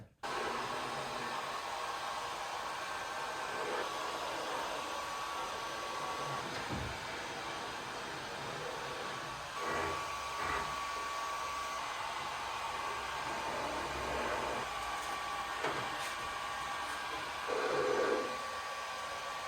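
A heat gun blows a steady, hissing airflow while heating the vinyl wrap edges on a car hood. Faint handling knocks and rustles come and go beneath the continuous whoosh.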